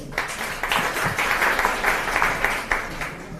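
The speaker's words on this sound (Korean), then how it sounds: "큰 박수 부탁드리겠습니다." At a youth meeting in Busan, a roomful of people claps steadily for a few seconds, with uneven individual hand claps in a moderately loud, close burst of applause.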